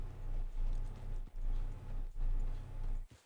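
Horse hooves clip-clop on a trail in Red Dead Redemption II, a steady, moderately close walking rhythm of hoofbeats that pauses briefly twice and stops near the end.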